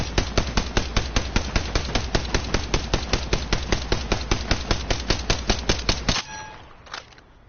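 A Rampage light machine gun from Apex Legends fires in automatic mode as one long, steady stream of loud, evenly spaced heavy rounds for about six seconds. It stops abruptly, followed by a brief metallic clink and a faint mechanical tail.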